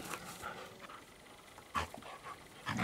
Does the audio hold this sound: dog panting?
yes